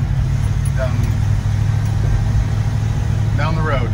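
A 1951 Chevy truck's engine hums steadily while driving, a low continuous drone that stays close and loud throughout.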